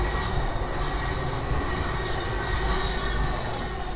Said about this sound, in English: Just let the train curve by.